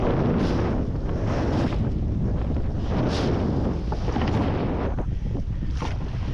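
Strong wind buffets a fishing boat at sea, a loud, unbroken roar of gusts and microphone wind noise with water churning beneath, no voices heard.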